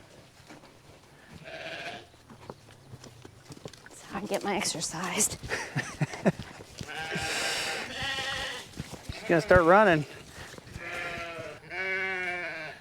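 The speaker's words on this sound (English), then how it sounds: "The only thing I don't like about this sheep just crying like this all the time" Weaned lambs bleat and cry repeatedly on a farm, loud nearby wavering calls coming in bursts over the second half, mixed with people talking and outdoor noise.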